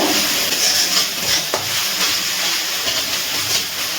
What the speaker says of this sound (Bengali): এবারেও আমি খুব ভালো করে নাড়াচাড়া করে কষিয়ে নেব।